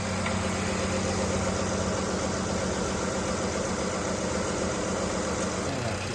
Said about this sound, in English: she's idling really good now